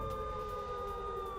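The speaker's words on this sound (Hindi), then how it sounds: "और ये रेड अलर्ट सायरन सुनिए," A red alert air raid siren sounds during a missile attack on Bahrain: a steady, sustained wailing tone, loud and continuous with no speech.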